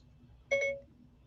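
A phone's voice-assistant activation chime sounds once, a short bright two-part tone standing out clearly over a quiet low room hum.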